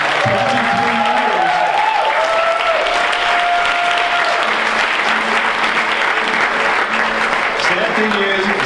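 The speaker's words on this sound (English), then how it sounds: "How about a big hand of applause for all of you?" A crowd at a scholarship benefit concert gives sustained, loud applause, a continuous roar of many hands clapping with faint vocal cheers and whistles rising through it.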